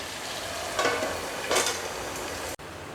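Chicken frying under a lid in a pan for biryani gives a steady, close sizzle, with two brief louder bursts that sound like the pieces being stirred or turned. A short cut comes near the end and no one speaks.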